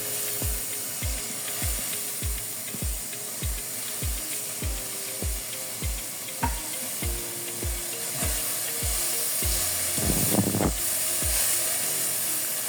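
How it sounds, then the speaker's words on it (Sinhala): Chopped kale leaves stir-fried in a pan over low heat: a soft sizzle under steady, rhythmic taps of the utensil against the pan, about two a second, with a busier clatter near the end. "විනාඩි 4ක් විතර මේක මද ගින්නේ පොඩ්ඩක් ටෙම්පරාදු කරගන්න."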